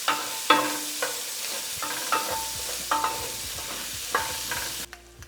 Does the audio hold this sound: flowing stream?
no